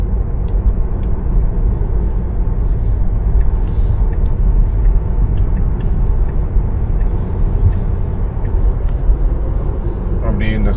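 A car drives along an empty road near Dubai, its steady broadband engine and tyre rumble continuous and fairly loud throughout, with a voice talking over it.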